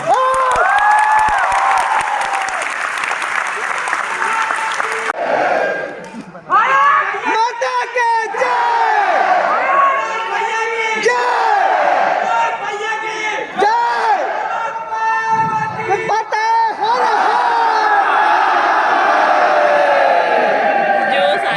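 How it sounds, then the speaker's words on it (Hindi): An audience at a stage show in Varanasi's Rudraksha convention centre cheers and applauds loudly and continuously, with many voices shouting over dense clapping, briefly dipping before swelling again. "मैं चाहता हूं एक बार अपनी उपस्थिति के लिए एक तालियां बजा लें।"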